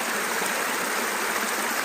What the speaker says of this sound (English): There's a creek running by here you may be hearing.